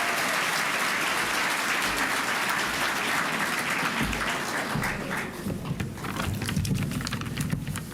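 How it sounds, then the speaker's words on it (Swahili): An audience at a Kenyan diaspora meeting with the president applauds, a dense, loud and sustained clapping that thins slightly toward the end. "Pigia makofi."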